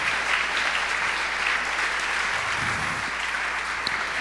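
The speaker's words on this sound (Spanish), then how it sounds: "te invito a que le des un fuerte aplauso a Él" Church congregation giving loud, sustained applause, a thick continuous clatter of many hands filling the room from start to finish.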